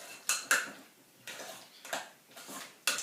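A utensil stirs garlic salt into a sandwich filling in a bowl, producing a few sharp clinks and scraping strokes against the dish at uneven intervals, close and quiet, with no talking.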